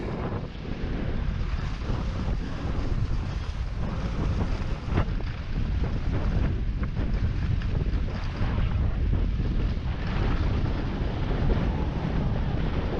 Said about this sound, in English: A little bit of wind up here today.